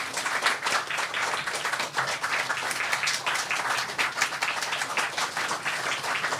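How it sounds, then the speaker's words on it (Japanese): A crowd applauds steadily, dense clapping sustained throughout at moderate volume, heard from within a large room, at a post-screening talk event for a film. "もう一度拍手でお迎えください"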